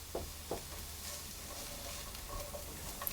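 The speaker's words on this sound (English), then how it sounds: "I'm going to cook those again on the low heat" Cheese and onion pie filling ingredients cooking on low heat in a pan, giving a faint steady sizzle with a couple of soft knocks near the start, heard close and without talk.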